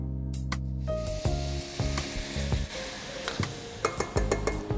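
Water poured into a hot pan of mixed rice and vegetables sets off a loud, steady sizzle, with sharp metallic clinks and scrapes from a utensil stirring through it.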